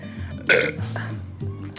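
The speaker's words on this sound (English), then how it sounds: "I had to burp" A loud, close belch rumbles out in one drawn-out burst during a casual beer-drinking session, with faint voices around it.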